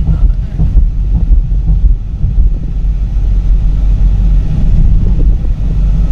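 A car cruising in sixth gear while gaining speed from about 64 to 67, engine turning under 1500 rpm, gives a steady low rumble mixed with constant wind buffeting from start to finish.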